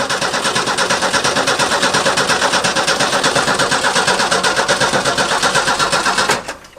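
An old Ford inline-six that has been sitting a while cranks steadily on the starter, a loud, close, rhythmic churning that runs without firing for several seconds and then cuts off abruptly.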